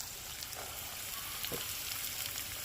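Potato and chopped radish frying in a pan, a faint, steady sizzle and crackle with a few soft stirring knocks, close by and quiet.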